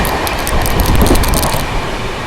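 The Karnataka Sampark Kranti Express runs through a ghat section with a loud, continuous rumble and clatter of carriages, steady throughout and with no speech.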